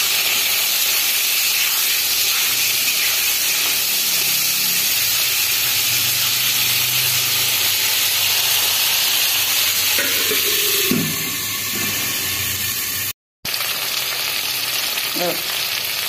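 Hilsa fish fries in hot oil with a loud, constant sizzle and hiss close by, briefly broken near the end by a few stirring scrapes and a short pause, with no voices.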